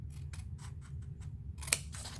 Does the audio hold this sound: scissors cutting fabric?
yes